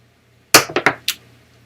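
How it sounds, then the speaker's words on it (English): Craps dice tumble across a casino table: four sharp, close clattering impacts in quick succession, then quiet. "Dice are out."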